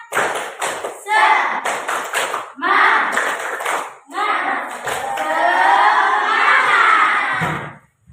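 Schoolchildren in a classroom perform a rhythmic spirit clap, a burst of patterned claps followed by loud group chanting and shouting, with clapping and voices close and energetic throughout.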